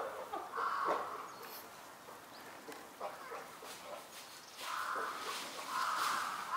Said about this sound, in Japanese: カラスがチンパンジーの餌をあさりに来ていました。